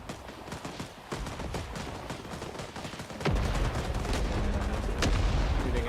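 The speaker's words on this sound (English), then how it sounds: "Shooting at me and only me." A Vietnam war video game fills the clip with rapid, dense gunfire, a continuous rattle of close shots that grows louder partway through.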